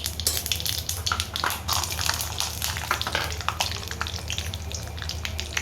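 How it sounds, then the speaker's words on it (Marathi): Peanuts fry in hot oil in a home kitchen, giving a steady close crackling sizzle with scattered pops and stirring clicks throughout, with no talking. "तेलात जरा तळू देते शेंगादाणे"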